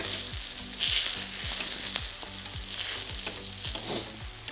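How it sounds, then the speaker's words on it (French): Oysters with melting butter sizzle on a brazier plancha in a steady, close frying crackle, with no voices. "mes huîtres également, avec mon beurre qui est en train de fondre"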